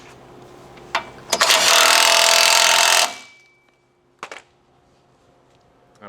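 A power impact tool rattles for about two seconds, tightening frame bolts on a winch mount on a 5th-gen RAM 3500 truck. It starts with a short burst, then a loud sustained whir, followed by a brief second burst.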